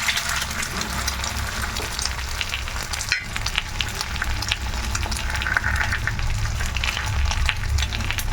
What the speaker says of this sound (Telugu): ఇప్పుడు ఆయిల్ వేసాం ఎగ్ పౌడర్ ఆమ్లెట్ వేస్తున్నావు